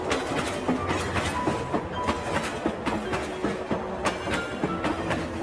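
A train runs along the tracks in a steady, loud rumble, with a rhythmic clickety-clack of wheels that carries on throughout.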